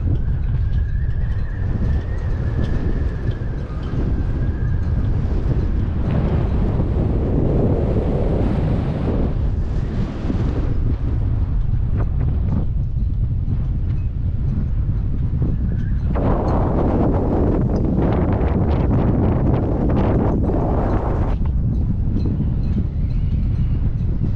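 Strong sea wind roars and buffets the microphone continuously, a loud rumbling gusting noise with surges and dips and faint hiss of waves beneath, no voices.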